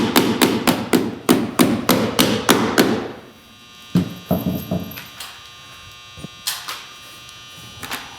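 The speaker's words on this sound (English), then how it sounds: "so I'm going to nail up high" A hammer drives nails into step flashing on an asphalt shingle roof. A fast run of about ten loud, evenly spaced blows comes first. After a pause, a few lighter, irregular taps follow.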